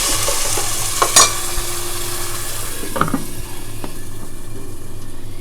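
Masala paste hits hot oil for tempering in a Malvani fish curry. It gives a steady sizzle with a few sharp stirring scrapes and clinks near the start and middle.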